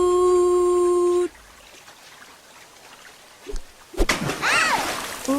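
Water splashing about in a cartoon, with a sustained tone at first, then quiet, then several sharp splashes and sloshes near the end.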